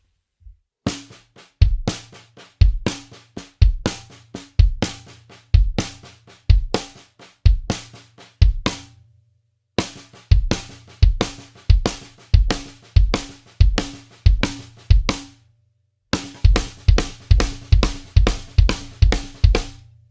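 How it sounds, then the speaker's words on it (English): Snare drum playing a right-left-left-kick phrase in three passes at slow, medium and fast speeds: crisp repeated strokes with short gaps between passes and a low kick thump in each group, played alone with no talk. "I'm going to play it all on the snare first so you can hear it and you can learn it"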